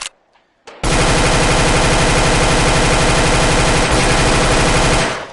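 Rapid sustained automatic fire from a P90 submachine gun in a VR video game, a loud continuous burst lasting several seconds after a brief quiet start, with dense rattling shots.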